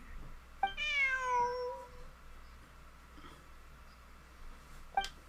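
A cat meows twice in Genshin Impact, one long drawn-out, wavering meow near the start and a shorter, quieter call near the end, over a soft game background.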